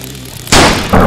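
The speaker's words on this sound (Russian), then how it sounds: "Так, ладно, готовься, я стреляю." A tranquilizer gun fires in a single sharp, loud burst after a brief quiet moment, followed by a second loud crack or bang close behind it; no talking.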